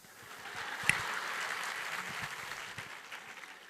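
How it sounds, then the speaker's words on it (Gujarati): An audience claps steadily for small children speaking on stage at a school's annual function in 2025, a dense, sustained patter with one sharp louder clap near the start that thins slightly toward the end. "નાના બાળકો જ્યારે બોલતા હોય ને ત્યારે એને પ્રોત્સાહન રૂપી તાળીઓ પાડવાની"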